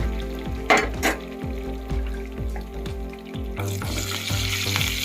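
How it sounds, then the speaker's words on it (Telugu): Brinjals deep frying in a pan of hot oil for stuffed eggplant curry, giving a steady loud sizzle and crackle with occasional stirring scrapes and utensil knocks, no talking. "డీప్ ఫ్రై చేసుకోవాలి ఆయిల్ మొత్తం మంచిగా వంకాయలు పట్టుకునేటట్టు డీప్ ఫ్రై చేసుకోవాలి"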